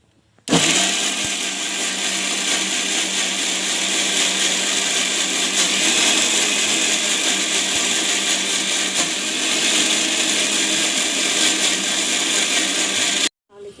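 A kitchen mixer grinder runs steadily while blending homemade chutney, a loud, continuous whirring drone that starts abruptly and holds for about thirteen seconds before cutting off.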